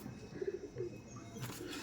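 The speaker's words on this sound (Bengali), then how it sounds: "দেখেন ফেস অফ বিউটি পায়রাটা দেখুন" A Face of Beauty pigeon coos softly a few times in short low pulses, faint and close, with light background noise.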